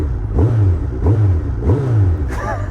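A Suzuki Hayabusa 1300cc motorcycle engine revs three times in quick succession, each blip rising and falling, loud and close, ending in a brief higher whine.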